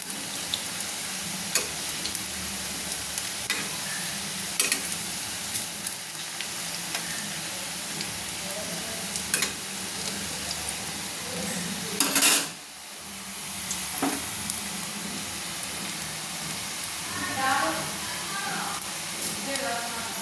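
Onion pakoras fry in oil over a lowered gas flame, giving a steady, close hiss of sizzling throughout, broken by a few sharp clinks of a utensil against the pan.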